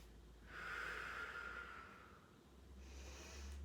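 A steady breathy exhale during a Pilates exercise, close and soft, lasting about two seconds, followed by a fainter second breath.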